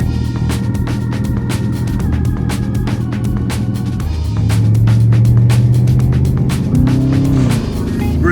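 A Jaguar XJR575 engine drones steadily while the car is driven on the road, loud and close from inside the cabin, with the pitch shifting as the revs change partway through.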